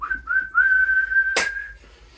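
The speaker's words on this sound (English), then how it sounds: "Ref's got the whistle in his mouth" A referee's whistle at the end of a football match: a long sustained blast preceded by two short chirps, clear and close, followed by a sharp thump, with no talking.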